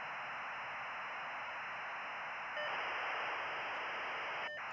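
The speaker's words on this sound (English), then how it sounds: "This modem is so slow." A dial-up modem connecting and downloading gives off a steady loud hiss of static with a fixed tone above it, then shifts and gets slightly louder partway through before a short click near the end.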